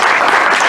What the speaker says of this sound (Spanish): Yo le pido un aplauso a los amigos.